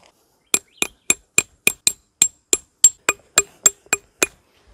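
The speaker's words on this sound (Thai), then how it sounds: "โอเคตอนนี้ผมก็ตอกสมอเสร็จแล้วนะครับทั้ง4มุม" Tent stakes being hammered into the ground while pitching a Coleman Touring Dome LX tent: thirteen sharp, ringing metallic strikes at a steady, even pace, close and clear with no talk.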